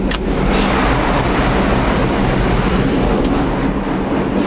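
Subway train running loudly and steadily close by, a continuous rumbling roar with faint rail clatter and a brief sharp screech near the start and another around the three-second mark.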